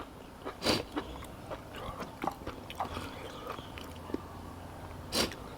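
Close, crisp crunching as crispy grilled beef is bitten and chewed, irregular bites and munches with a couple of louder crunches.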